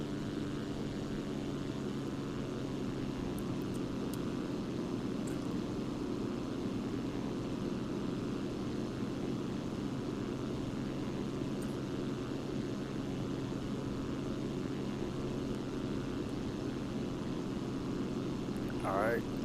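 A single-engine general aviation aircraft in X-Plane 11 flies a landing approach with flaps extended, its steady propeller engine drone continuous and even throughout, with only slight variation in tone.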